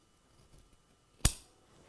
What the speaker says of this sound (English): First thing I want to do is trim out some of the excess fabric in there.